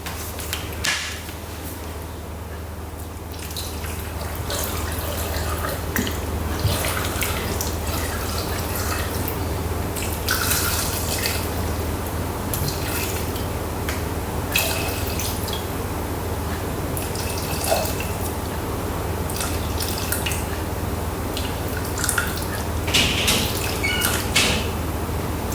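500 grams of water goes into a Thermomix bowl, a steady trickle with scattered drips and splashes running continuously at moderate level, with no talking.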